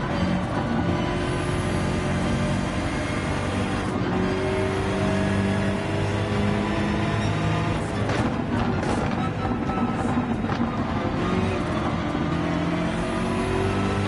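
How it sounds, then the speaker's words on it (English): Lamborghini Gr.3 race car engine in Gran Turismo 7, a loud, steady roar with rising and falling revs, heard up close and continuously with no talk. "that Lamborghini just sounds amazing"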